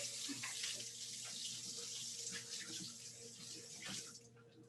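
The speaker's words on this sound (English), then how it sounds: "And rinse my hands real quick." Water runs steadily from a kitchen tap into a sink while hands are rinsed, a continuous hissing splash with slight changes in flow as the hands move, then easing off near the end, with no talk.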